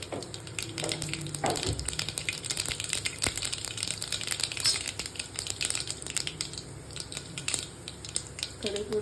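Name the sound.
mustard seeds spluttering in hot oil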